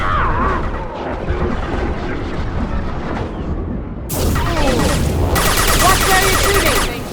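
Sci-fi weapon gunfire in the video game Mass Effect 2, a loud continuous barrage of shots and blasts that intensifies sharply partway through, with combat noise layered throughout.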